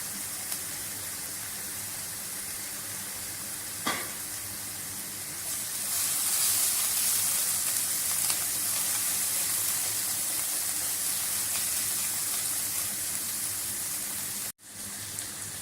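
Steady broadband sizzling hiss of meat frying in a pan for aloo gosht, swelling louder midway, with a brief clank near the start and a sudden cut near the end.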